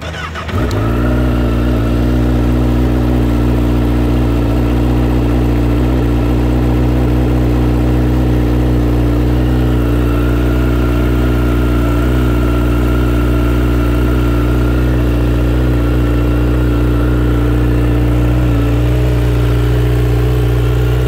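A 2017 Honda CBR1000RR SP sport bike engine fires up abruptly and settles straight into a loud, steady, close-up idle with a deep hum. The idle runs unbroken for about twenty seconds.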